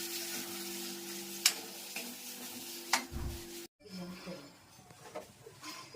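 Hot oil sizzling in a pan as the tempering for a sev tomato curry is made, with a steady frying hiss, a couple of sharp utensil taps, then a quieter bubbling after a brief drop.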